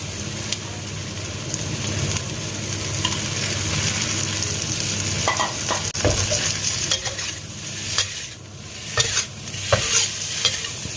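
An omelette is stir-fried with holy basil, giving a loud, continuous close sizzle with repeated spatula scrapes and taps against the pan that grow busier in the second half, with no talking.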